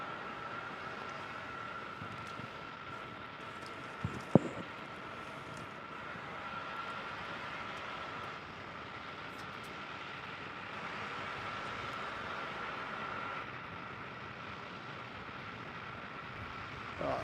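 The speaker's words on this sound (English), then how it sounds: "your next one in is a little 737-800 from Virgin, velocity 246 in from Adelaide" A Virgin Boeing 737-800 arriving at Melbourne Airport from Adelaide produces a steady, moderately distant jet engine drone that holds for the whole stretch, with a brief knock partway through.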